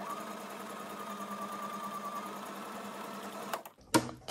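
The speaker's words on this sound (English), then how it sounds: "now I'm just going to do my best to sew a wavy line down to the bottom" A sewing machine stitches a slow wavy line down a sheet of paper for junk journal ephemera, running as a steady close motor hum with rapid needle chatter, then stopping abruptly near the end with a brief clunk.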